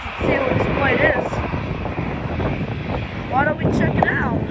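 A Frontier Airlines Airbus A320 airliner at Norfolk International Airport produces a steady engine roar mixed with wind buffeting on the microphone, while people talk nearby throughout.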